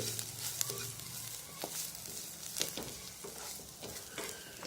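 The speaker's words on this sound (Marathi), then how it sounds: "कांदा सुद्धा छान भाजत आलेला आहे" Onion roasts in a pan for a ridge gourd curry, giving a low steady sizzle with scattered scraping and clinking strokes of a spatula stirring it, fairly faint and close.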